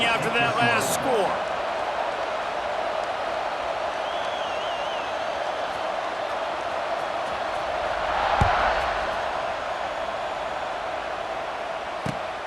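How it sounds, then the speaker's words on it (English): Stadium crowd in EA Sports College Football 26 buzzing after a touchdown and extra point, a continuous loud roar of cheering with a brief sharp thud and swell partway through. "This crowd is buzzing after that last score."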